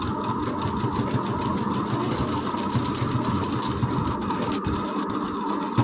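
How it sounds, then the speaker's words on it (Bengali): A sewing machine hums and rattles steadily at close range, stitching the hem of a long frock with gathered ruffles. The rapid mechanical chatter runs continuously for about six seconds. "সাইড থেকে 1 ইঞ্চি মার্জিন রেখে নিচের থেকে সেলাইটা আমি ধরিয়ে নিচ্ছি"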